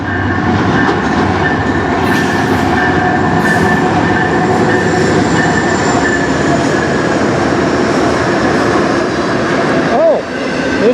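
A CN freight train on the Strathroy Subdivision rumbles past loudly and close, its wheels clattering steadily throughout, with a faint squeal near the end.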